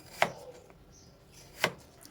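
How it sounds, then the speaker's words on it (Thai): Two sharp knife strokes cut through potatoes on a cutting board while slicing them for French fries, each a crisp, close thunk about a second and a half apart, in an otherwise quiet kitchen. "เราจะเอามันฝรั่งมาหั่นนะคะ"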